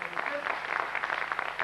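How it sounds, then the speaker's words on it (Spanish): Audience in a concert hall applauding Antonio D'Agostino at a tango event, a steady patter of many hands clapping at moderate distance, even and sustained throughout. "un aplauso para él, que está en la sala"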